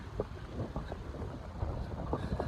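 Strong wind buffets the microphone in a steady low roar with gusty swells, no voices present.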